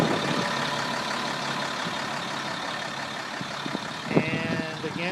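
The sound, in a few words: Caterpillar 3116 truck engine running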